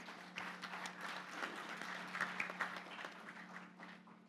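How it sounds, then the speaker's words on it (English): Audience applause at a sports education launch panel, a quiet, steady spread of clapping over a low electrical hum, with scattered louder claps. "Can we have a round of applause for them, please?"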